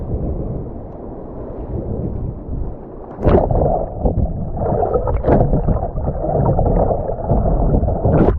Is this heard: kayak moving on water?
yes